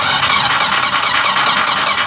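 A car engine on a Toyota T120SS injection with an ignition fault cranks on the starter, giving a steady, loud, continuous whirring churn up close for the whole stretch.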